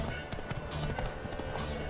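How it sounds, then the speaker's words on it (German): Horse galloping, staged as an audio drama sound effect, with a rapid, fairly faint clip-clop of hooves over a brief stretch and a low background bed. "Er gab dem Pferd die Sporen und ging zu einem halsbrecherischen Galopp über."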